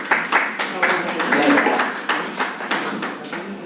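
Audience claps to welcome a guest onto the stage at a product launch event, a steady close patter of applause that swells and fades slightly, with some voice in the mix.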